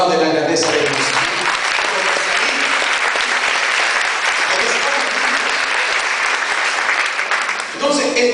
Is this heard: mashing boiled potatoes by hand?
no